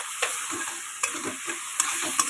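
Prawns fry in hot oil with a steady crackling sizzle, punctuated by several sharp spatula taps and scrapes against the pan as they are stirred.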